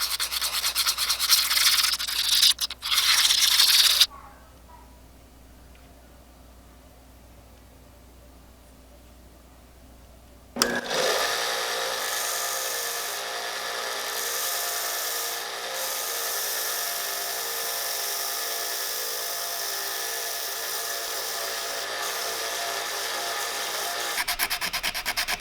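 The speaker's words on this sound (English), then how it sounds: "Gonna move on to sanding." A carved wooden hatchetfish lure is sanded, first in a few seconds of close hand rubbing, then after a quiet pause in a long steady whirring grind like a small rotary sanding tool.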